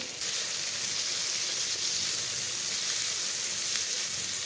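Onion dropped into hot oil with fried cumin seeds, a loud, even, continuous sizzle and hiss that holds steady from start to finish with no talking.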